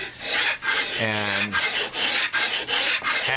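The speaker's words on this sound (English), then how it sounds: "so that you're sanding both sides as you do this" Rhythmic back-and-forth rasping of sandpaper on wood of a bongo cajon kit, close and loud, with strokes repeating about every half second.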